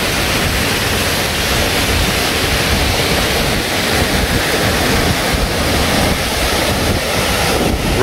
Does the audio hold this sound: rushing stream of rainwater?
yes